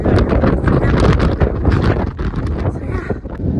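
Cold wind gusting outdoors beside a river near a state capitol building in Lansing, Michigan, roaring hard across the microphone in loud, fluttering buffets with no talk.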